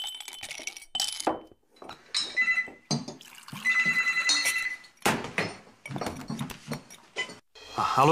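A telephone rings indoors in a telenovela scene, its bright electronic trill sounding in short bursts amid clinking and other background household sounds.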